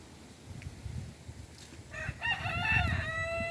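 A chicken loose in a backyard garden near a compost area calls out, a short burst of clucking and crowing-like squawks rising over faint outdoor background noise.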